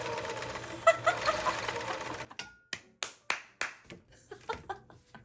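A 1984 Baby Lock 418 serger sewing machine running after repair, with a brief whirring burst followed by a series of sharp, evenly spaced mechanical thumps and clacks, close and clear with no talking.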